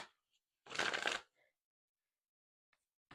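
Guidance cards are shuffled in one brisk riffle lasting about half a second, close and crisp amid quiet, with a few faint taps before and after.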